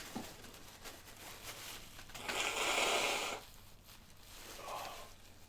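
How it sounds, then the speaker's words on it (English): Someone blows their nose once, a short, loud, breathy honk against a quiet room. "I'm gonna have to blow my nose."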